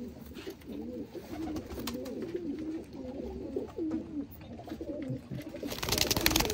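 Sialkot breed pigeons coo repeatedly in soft, rolling phrases at close range, with faint rustling under them and a louder noisy burst near the end.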